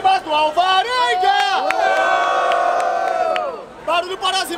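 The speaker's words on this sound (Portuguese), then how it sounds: "Vamos lá! Barulho para as rimas do Alvarenga!" A crowd at a street rap battle in Barueri, São Paulo, cheers and whoops loudly, with drawn-out shouts rising and swelling together over several seconds.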